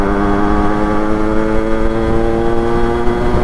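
A Yamaha RXZ two-stroke motorcycle idles steadily and close by, its engine putting out an even, buzzing drone throughout with a slight wavering in pitch.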